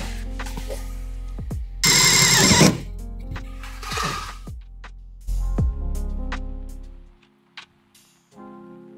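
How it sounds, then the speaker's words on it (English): A power drill bores holes through the sheet-metal tailgate of a VW Transporter T5, in two loud bursts of a few seconds each, separated by short pauses and quieter handling noises. "Now we've marked the holes, it's time to drill them"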